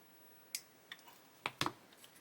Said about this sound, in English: I can cut a bit more off of there.